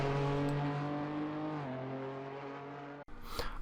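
Nissan Skyline R31 engine in Assetto Corsa holding a steady high-pitched rev, then dropping slightly in pitch, cutting off abruptly before a short burst of rougher noise.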